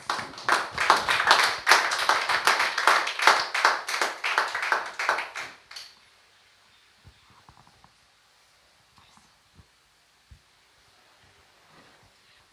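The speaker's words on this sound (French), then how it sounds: "nous applaudissons la présence du Saint-Esprit dans la vie ce matin" A church congregation clapping together in a brisk, steady rhythm for about six seconds, loud and close, then stopping, followed by near silence with a few faint taps and rustles.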